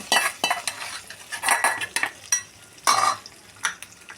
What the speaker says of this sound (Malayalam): ഇതിലേക്ക് ഇനി കടുക് അണിച്ച് നമ്മൾ ഒഴിച്ചു കൊടുക്കുവാണ്